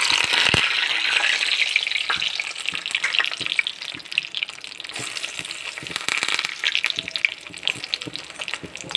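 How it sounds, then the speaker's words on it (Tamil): Cashews fry in hot ghee in a kadai, giving a dense crackling sizzle with scattered sharp pops and stirring, loud and close throughout. "நெய் காஞ்சதான் இந்த முந்திரியை போட்டு"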